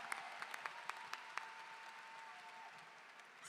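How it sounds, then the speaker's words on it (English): Scattered claps for a university graduate at a Tennessee State University fall commencement, faint and sparse, a handful of sharp hand claps fading into a quiet room hum. "Let's give her a round of applause"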